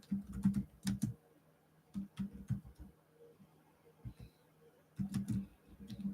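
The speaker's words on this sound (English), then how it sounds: "I'm typing in the longer version of my title." Bursts of quick keyboard clicks come in short runs separated by pauses, close and fairly quiet, with no talking.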